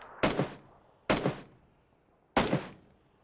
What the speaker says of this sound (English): He's trying to shoot me now.